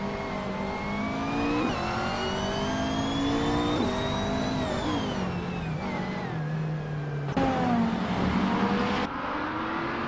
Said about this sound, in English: Guy is driving a 2018 Fittipaldi EF7